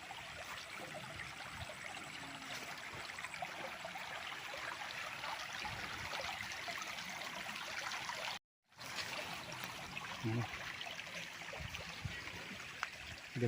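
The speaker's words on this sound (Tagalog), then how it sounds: "Ang gandang pakinggan ng agos ng tubig." A stream flows along the edge of a farm lot in Pagsanjan, Laguna, giving a steady, soft trickling and babbling wash throughout, with a brief gap of silence partway.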